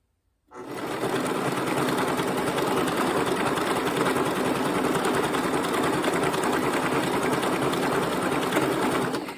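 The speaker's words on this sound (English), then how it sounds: "This is just a domestic sewing machine." A domestic sewing machine sewing a quilt starts up and runs steadily for several seconds, a fast rhythmic mechanical whir and clatter, close and loud with no talking.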